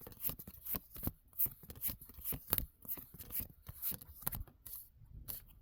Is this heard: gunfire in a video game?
no